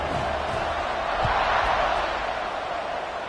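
Football stadium crowd at a Nebraska–Colorado game murmurs and cheers in a broad, sustained roar at kickoff, swelling slightly midway, with a few low thuds and an announcer's voice over it.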